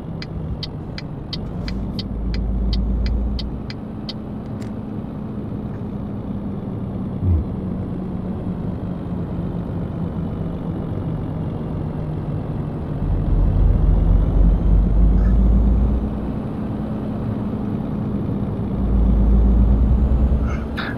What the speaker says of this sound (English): I've passed quite a few trucks on the way. There's a couple passing me now.